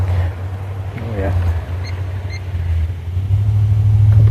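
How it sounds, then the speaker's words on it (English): A couple of trucks roll down a forested logging road, a low steady engine rumble building slightly louder toward the end, heard from a short distance with a brief voice partway through. "A couple of trucks coming down the forestry road."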